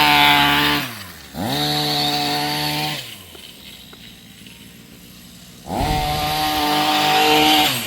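A Rovan 45cc gas engine runs after a carburetor adjustment, revving loud and close, dropping to a low idle for a few seconds, then revving back up.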